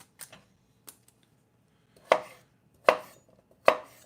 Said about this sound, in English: Just as soon as I get this finished chopped up,